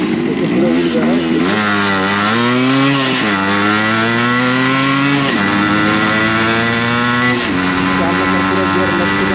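A Yamaha RX 100 two-stroke motorcycle engine revs hard in gear, its buzzy pitch rising and dropping across several loud, close pulls with brief dips between them.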